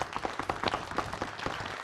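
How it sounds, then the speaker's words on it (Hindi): A crowd claps in a comedic Akbar Birbal court scene, the hand claps dense and irregular, steady at moderate level throughout with no clear pauses. "तालियां, तालियां।"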